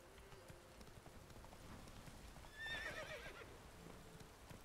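Roach the horse in The Witcher 3 gives a loud whinny partway through, with clip-clopping hooves running steadily underneath, set against soft game ambience.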